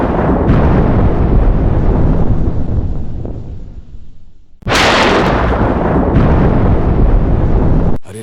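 Loud, booming rumbles crash in twice, separated by a short quiet gap, sounding like violent thunder roaring close by before cutting off abruptly.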